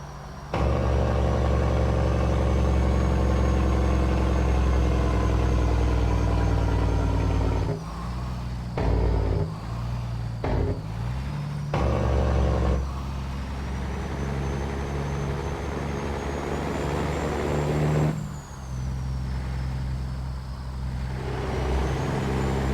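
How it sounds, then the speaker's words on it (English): A custom Peterbilt 389 truck hauling a heavy harvester, its engine running loud and close with a deep, steady rumbling drone. The drone drops briefly several times partway through, then holds strong again. "Listen to the sound of that truck. This thing sounds so good."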